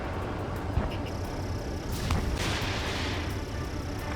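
Ace Combat 7 aerial combat game: missile launches and gunfire rumble and hiss as a continuous dense roar with a brief bright whoosh midway, loud and without speech.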